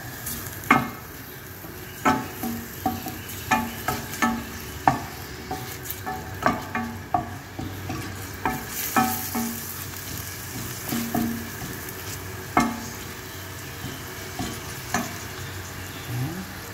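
White fish frying in olive oil, a continuous sizzle punctuated by regular scraping stirs from a utensil, close and fairly loud with no talking.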